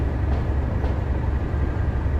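Class 37 diesel locomotive hauling a coal train on the Tees Valley Line in Train Sim World, a steady low engine rumble and rolling rail noise that stays constant throughout, with no talk.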